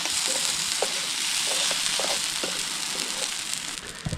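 Mushrooms sizzling steadily in a pan over a backpacking camp stove in the Arkansas wilderness, a continuous close frying hiss with small scattered pops, no talking.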